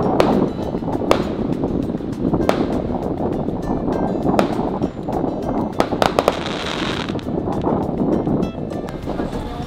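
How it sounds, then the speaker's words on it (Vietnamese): Fireworks go off in Bali, a steady crackling, popping barrage with sharper bangs scattered throughout, heard outdoors under constant wind and crowd noise for about ten seconds. "Ơi người ta bắn pháo kìa."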